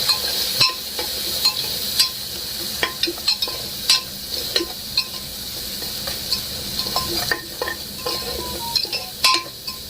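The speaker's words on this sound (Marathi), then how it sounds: "दोन चमचे मीठ ही पेस्ट आपण हलवून घेऊया" Salt and spice paste for Maharashtrian sukka mutton stirred in a pan, a busy sizzle under scraping spoon strokes and light metallic clinks, close and continuous throughout.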